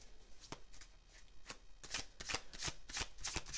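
Tarot cards are shuffled by hand in a quiet room, making a series of crisp, close riffling bursts that come faster and louder toward the end.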